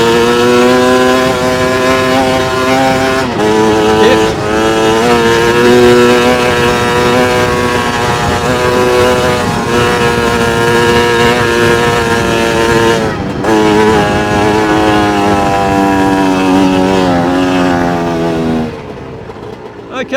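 Chinese dirt bike engine in third gear pulling up a steep hill, a loud, close, sustained buzzing drone whose pitch rises and dips with throttle, with brief breaks between pulls and no talking over it.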